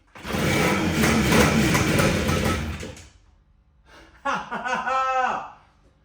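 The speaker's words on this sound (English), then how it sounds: "I'm going to leave you with me kicking the bike over and hopefully not swearing too much" A barn-find Yamaha RD400 two-stroke motorcycle is kicked over, giving a loud, close engine roar that dies out, then a brief pause before a second rougher, sputtering burst as it is kicked again.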